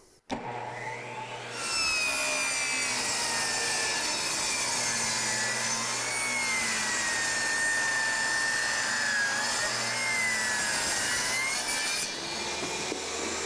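A saw cuts at an angle through an engineered hardwood flooring board, a loud, steady buzzing whine with a shifting pitch that runs continuously for about ten seconds before a quieter low hum remains near the end.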